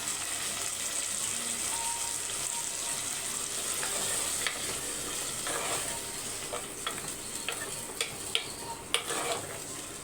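Tomatoes and vadagam tempering sauté in a pan for a fish kuzhambu, a soft continuous sizzle with scattered clinks and scrapes of a stirring spoon that grow more frequent toward the end.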